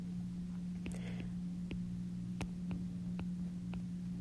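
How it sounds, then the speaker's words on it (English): A vibrating phone set too close to a loudspeaker causes a steady low electrical hum with irregular ticking, buzzing bursts breaking through it; no one speaks. "My phone was too close to the speaker and just vibrated."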